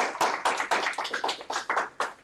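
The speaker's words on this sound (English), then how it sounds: "Round of applause for James Rowland." Applause from an audience at a college debate tournament, fairly close and full, with sharp claps swelling in irregular bursts for about two seconds and no talking over it.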